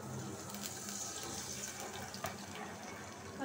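Water is poured into a pan during cooking of hilsa fish curry with radish, giving a soft, steady splashing pour for a few seconds at low volume.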